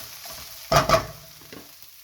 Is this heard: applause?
no